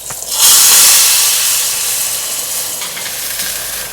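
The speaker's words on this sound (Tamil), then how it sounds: "இப்போ இதை ரசத்து கூட சேர்த்துடலாம்." Hot tempering of mustard seeds, curry leaves and asafoetida poured into pepper rasam bursts into a loud, steady sizzle that swells fast, then settles into a long, bright hiss that fades slowly, with no talk.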